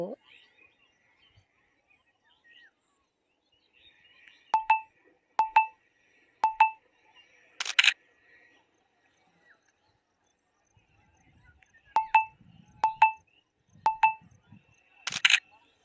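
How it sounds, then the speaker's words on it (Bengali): Realme 8 Pro smartphone camera self-timer for a selfie set to three seconds: two runs of three short, clear beeps in quick rhythm, each followed by a shutter click, in a quiet room with faint murmurs between. "3 সেকেন্ড টাইম সেট করে নিয়ে একটা সেলফি তুলে নিই"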